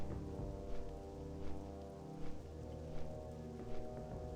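Rain in the World of Warcraft zone Un'Goro Crater makes a soft, steady hiss beneath a low sustained musical drone, fairly faint and continuous throughout.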